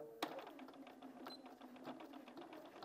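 A sewing machine stitches along a cushion edge with a quiet, even run of rapid needle clicks and a faint motor hum, starting with one sharp tap.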